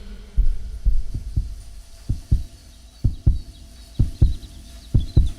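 Heartbeat sound effect: paired low thumps repeating in a steady lub-dub rhythm, close and fairly loud against a faint background with light bird chirps.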